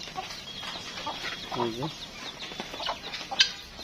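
Chickens cluck and chatter close by in a farmyard, with a rooster's short call standing out among the brief, overlapping calls.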